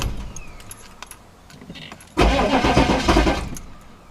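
A BMW E46 diesel with its ABS system bypassed, cranking after sitting unused and then catching into a loud, rough start that settles into a rumbling run, preceded by faint clicks and key sounds.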